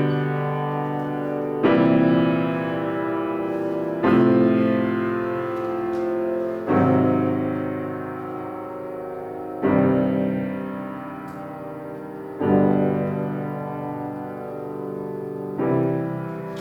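A composed chord progression in a minor key plays back as sustained, full chords that change every two to three seconds, each new chord striking with a soft swell before ringing out steadily and evenly.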